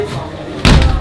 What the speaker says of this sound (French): m'a fermé la porte au nez